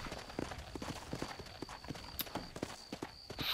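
Horse hooves clip-clop steadily in a brisk, even rhythm while riding in the video game Red Dead Redemption, moderately close with faint ambient background and no talk.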